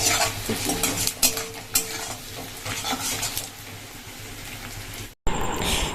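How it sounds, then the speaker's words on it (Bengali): Bay leaf and sliced onions fry in hot oil in a pan while a utensil scrapes and stirs them, giving a steady close sizzle with irregular clinks and scrapes, cut off for an instant near the end before resuming. "এখানে দিয়ে দিয়েছি তেলের মধ্যে তেজপাতা ফোড়ন আর পেঁয়াজ"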